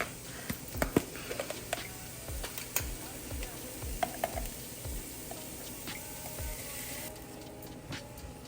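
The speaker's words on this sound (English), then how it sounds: "Now we got the onions in the pot, and we're just gonna mix them around a little bit." Onions fry in a pot for a lasagna while being stirred, giving a soft steady sizzle broken by light scraping taps of the spoon, fairly quiet and close.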